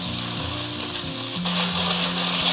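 Vegetables stir-fried hard in a wok after ginger and garlic are fried until fragrant, giving a loud, steady sizzle that swells partway through, with no talk over it.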